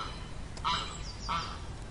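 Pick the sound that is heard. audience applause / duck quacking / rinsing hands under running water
duck quacking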